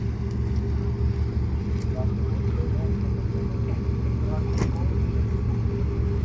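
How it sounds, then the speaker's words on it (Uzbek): Cars drive off a ferry at a Croatian port under a constant loud low rumble of engines, with faint passing vehicle noises on top. Someone talks nearby. "Mana shu yerdan mashinalar chiqadi."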